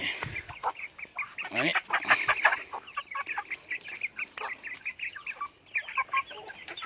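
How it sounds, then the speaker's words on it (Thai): Chickens cluck and squawk in a busy, overlapping stream, close by and fairly quiet, with no talking. "อันนี้ไก่"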